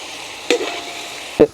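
Fish frying in hot oil for fish pickle, a soft steady sizzle broken by two brief louder stirring clatters.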